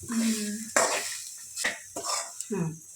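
Tempering sizzles in a hot pan while a seege soppu saaru is being cooked, with stirring and utensil clinks in short bursts between bits of talk.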